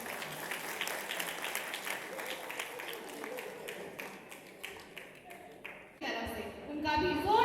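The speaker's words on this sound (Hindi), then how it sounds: "जोरदार तालियां" Audience applause for a group of children at a Diwali cultural programme, a steady patter of clapping that fades after a few seconds before a brighter burst of sound and voices near the end.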